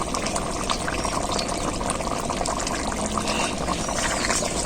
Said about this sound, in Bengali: এরপর ঘি দিয়ে দেবো 1 চামচ